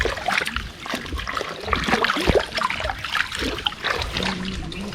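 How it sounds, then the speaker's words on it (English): Water splashes and trickles as muddy legs are washed in Fiji, with irregular close splashes and dribbles continuing throughout. "Island, wash your legs. Wash your legs."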